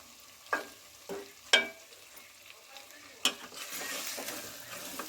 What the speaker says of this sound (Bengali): মশলার সঙ্গে আমি আলুগুলো ভালো করে হালকা হাতে নেড়ে চেড়ে নেবো